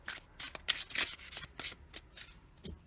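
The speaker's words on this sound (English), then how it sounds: "We're going to draw a few of my Color Goddess casting cards." Oracle casting cards are shuffled by hand, giving a run of crisp, close riffling bursts in an uneven rhythm, loud and alone without any voice.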